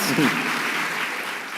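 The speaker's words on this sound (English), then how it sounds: "Can we give them, please, another round of applause?" Audience applause at an opening ceremony following a stage performance, a steady wash of clapping with a brief voice over it at the start, fairly loud and even throughout.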